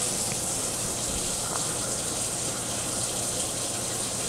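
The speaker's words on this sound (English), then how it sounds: "Let's run some hot water through the side that we just put the basket in and see what happens." Hot water runs steadily from a tap into an under-mount sink and down through its newly fitted drain basket, a constant, even rushing hiss with no pauses or voices.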